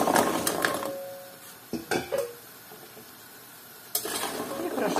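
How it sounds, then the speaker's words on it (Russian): Fried Tatar baursaks dropped into boiling sugar syrup and stirred, giving a steady close bubbling sizzle with a few sharp clinks of a utensil against the pot and short scraping bursts. "Наши баурсаки опускаем в кипящий сироп."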